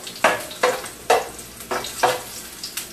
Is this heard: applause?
no